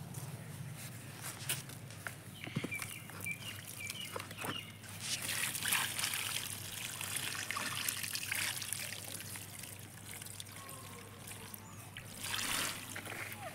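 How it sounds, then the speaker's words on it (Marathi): Water trickling and pouring in small amounts over kitchen-waste compost in a container, a steady soft dribble with occasional splashes, fairly quiet and close, without talk. "आपण ना या स्टेजला याच्यावर थोडं थोडं पाणी घालायचं आहे."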